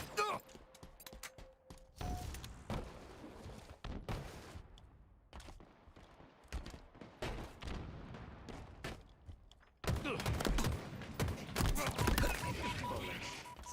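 Rapid bursts of Halo gunfire crackle in irregular volleys with brief gaps, sharp and fairly close, growing denser and louder toward the end, mixed with game effects and a faint voice.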